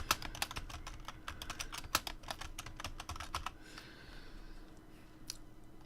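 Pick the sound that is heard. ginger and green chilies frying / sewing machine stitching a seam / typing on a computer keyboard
typing on a computer keyboard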